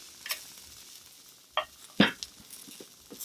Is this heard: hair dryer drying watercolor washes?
no